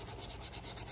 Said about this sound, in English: Some good old hand sanding. Just to smooth out the edges.